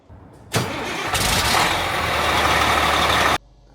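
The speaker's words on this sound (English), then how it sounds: "we're going to go ahead and fire this bus up one last time" A bus engine cranks with a harsh starter whir, then catches and roars into a loud, steady rumbling idle before cutting off abruptly.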